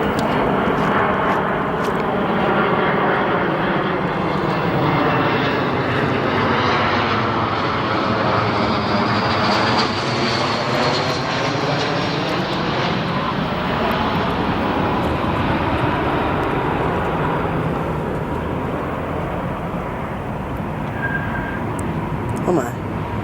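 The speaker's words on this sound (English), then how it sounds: "A320 from United Airlines coming in from Baltimore." A United Airlines Airbus A320 airliner does a touch and go at O'Hare International Airport, its engine roar loud and continuous, swelling and falling in pitch as it sweeps past, with a voice talking over it.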